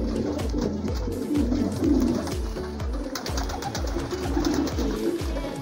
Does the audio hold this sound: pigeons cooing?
yes